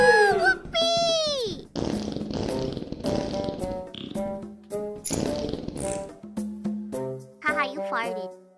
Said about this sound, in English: Haha, you farted.